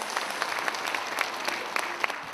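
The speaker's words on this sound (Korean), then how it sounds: "여러분 따뜻한 박수 부탁드리겠습니다" Warm audience applause at a Korean book launch event, many hands clapping steadily with a few sharper individual claps standing out, no speech over it.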